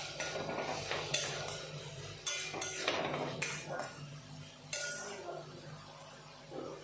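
A spoon scraping and clinking against a metal pan while onion, ginger-garlic paste and chopped tomato are stirred together for a Bengali chicken curry, giving irregular sharp knocks and clatters spaced through the stir.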